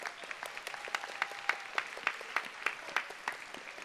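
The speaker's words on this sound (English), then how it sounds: "we give him a round of applause" Applause for a student at a high school senior awards ceremony, with scattered, fairly quiet claps from the audience in an irregular patter.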